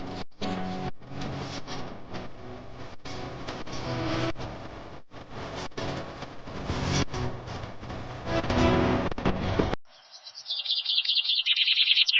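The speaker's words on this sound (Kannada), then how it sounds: "ಆಮೇಲೆ ಇಲ್ಲಿ ಪಕ್ಷಿಗಳ ಶಬ್ದವನ್ನು ಕೇಳೋಕೆ" Birds chirp and tweet amid a busy, broadband outdoor background for most of the stretch, then a clear, high bird call rings out near the end.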